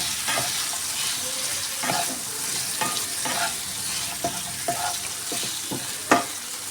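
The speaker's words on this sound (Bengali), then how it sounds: "তো নুন আর হলুদটা দিয়ে আলুটাকে ভালো করে মিশিয়ে নিলাম।" Potatoes frying in a pan with salt and turmeric while being stirred, a steady close sizzle broken by repeated scraping and clacking strokes of the spoon, with no voices.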